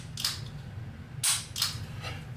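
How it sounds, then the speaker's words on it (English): A Canik TP9 striker-fired pistol is decocked, giving a few sharp close metallic clicks spaced irregularly against a quiet low hum. "So you press down on this guy, you hear it, that decocks it."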